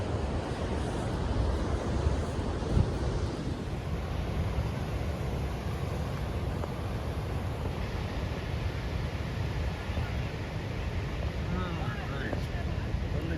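Atlantic Ocean surf on a beach in France rolls in a steady, loud wash with wind buffeting the microphone throughout.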